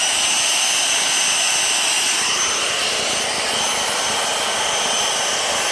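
A Dyson V6 Motorhead cordless vacuum cleaner runs loud and close, a continuous high-pitched motor whine with a steady airy rush throughout.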